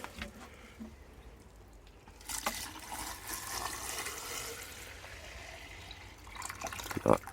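Liquid comfrey feed is poured onto vegetable plants, giving a soft, close splashing and trickling pour that swells, fades and ends in a few brief drips and gurgles.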